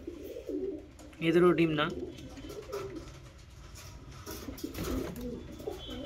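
Kaldoma and Giribaz cross pigeons coo nearby, a throaty bubbling call standing out in the middle, with someone speaking over and around it.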